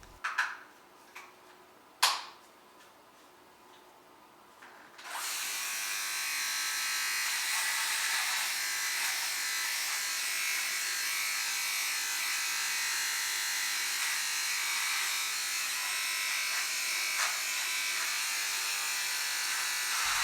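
A Philips Norelco S9000 Prestige shaver's trimmer starts with a few clicks, then buzzes close and steady for a long stretch while cutting hair, with its tone shifting slightly as it works.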